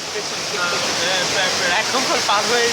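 A waterfall in Bilaichari, Bandarban, reached by crossing a canal in the rain, gives off a steady, loud broadband rush of falling water. Faint voices can be heard beneath the roar.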